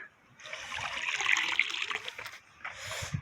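Water gurgles and splashes with air bubbles from a line during DIY inground pool closing for winter, in a steady bubbling burst that pauses briefly and then resumes.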